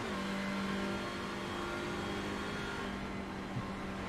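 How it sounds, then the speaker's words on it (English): A front-wheel-drive race car in a racing video game at Phillip Island, its engine droning steadily and loudly before easing off as the driver lifts off the throttle. "these cars are front-wheel drive, so we might hear a lift."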